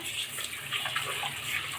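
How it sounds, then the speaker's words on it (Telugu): Water splashing and sloshing in a basin as fish is rinsed by hand, a brief steady watery wash up close. "ఇప్పుడు బాగా కడిగి పెట్టుకోవాలండి చూడండి వాటర్ వేసి బాగా"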